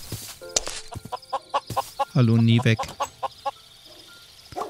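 A Minecraft chicken gives short clucking calls, with a brief stretch of a louder, drawn-out squawk, close and clear under a man's occasional quiet speech.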